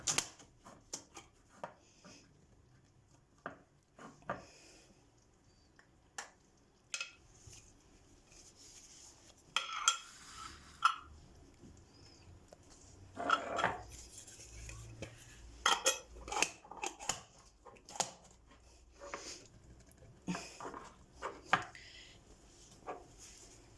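Metal lids are screwed tightly onto glass jars of cornelian cherry marmalade, giving scattered clicks, taps and brief scraping twists that come in irregular bursts, fairly quiet and close, with no talking.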